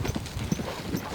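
An older green-broke horse's hooves clip-clop in a few soft, close steps, with a muffled, uneven rhythm and no speech over them.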